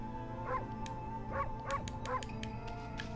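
Wolf barking in the video game Ōkami, four short yips spaced about half a second apart over a steady background of game music.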